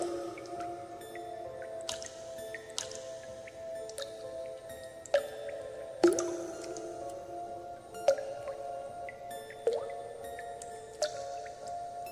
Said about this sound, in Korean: 안방 문 밖에서 물방울이 떨어지는 소리가 들려왔습니다.